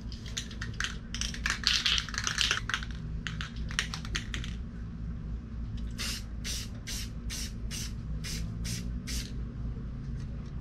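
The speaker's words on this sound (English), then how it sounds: "Spray paint" Rust-Oleum navy blue paint and primer sprayed onto a model car dashboard from a Monogram '55 Chevy Bel Air kit: a hissing burst early on, then a run of short, evenly spaced spray bursts, close and fairly loud over a steady low hum.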